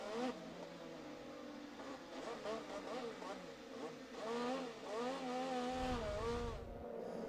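IndyCar engine onboard Tony Kanaan's car at the 2015 Louisiana race on a wet track, a buzzing high-revving whine rising and falling with throttle and gear changes, faint and distant-sounding, with a rougher burst near the end.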